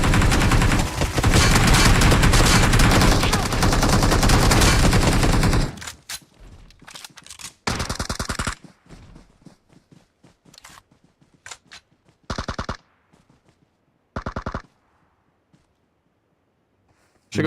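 Automatic gunfire in PUBG Mobile hammers loudly and continuously for several seconds, then breaks into short sharp bursts separated by silences.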